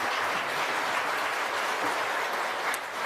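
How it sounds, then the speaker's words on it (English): Applause from a seated audience at a national architecture awards ceremony: a steady, even wash of many hands clapping for about three seconds, no voices. "Please give them all a round of applause."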